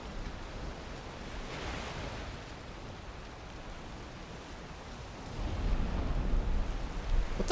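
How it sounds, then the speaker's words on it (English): Ocean waves in the Valheim video game during heavy weather at sea, a broad rushing surf that swells and recedes, growing louder and rumbling low toward the end, with no talk. "These waves are massive."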